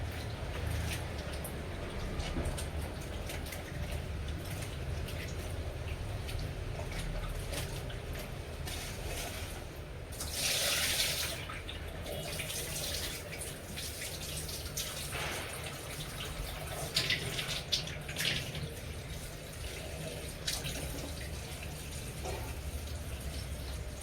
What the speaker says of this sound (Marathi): दोन दोन तीन पाण्याने धुते मी हे बघा असं धु धुते म्हणजे कसं घाण भेंडीला बसलेलं सगळं निघतं